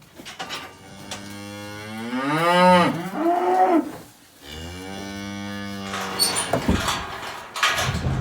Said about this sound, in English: I've got the cows and calves in the trailer.